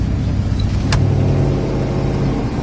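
A 1987 Dodge Ramcharger rolls along the road with a steady, close engine drone and road rumble, and a brief click about a second in.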